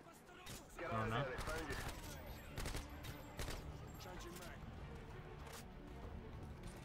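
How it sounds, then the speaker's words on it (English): Modern Warfare 2 gunfire crackles in bursts, mid-distance shots mixed with game sounds, while a voice talks over the early part. "Are they shooting you?"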